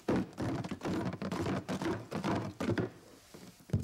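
Wooden blocks rattle and clatter continuously as a box is shaken vigorously, with brief pauses between bursts.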